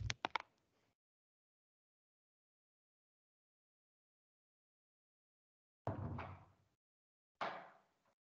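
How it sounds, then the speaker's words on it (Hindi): An interior door is shut partway through a lecture with a short burst of thuds and a latch click, then two more muffled knocks or bumps follow after a long silence, fairly close and with no talk over them. "थोड़ा मैं दरवाजा क्लोज कर दूं।"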